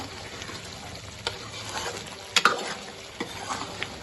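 Tender meat stir-fried (bhuna) with ghee and spices in a pot, a soft continuous sizzle broken by a few sharp spoon scrapes and clinks, quiet and close, with no talking.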